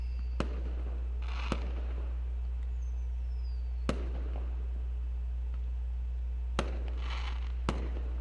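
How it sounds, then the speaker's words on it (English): Fireworks rockets in the video game Angels With Scaly Wings bursting one after another, five sharp cracks at irregular intervals with faint whistles and crackle between, over a steady low hum. "More rockets followed, their thunderous noise echoing through the land."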